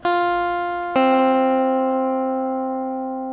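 Two clear guitar notes plucked one after the other on barred strings, each ringing out and slowly fading, close and clean.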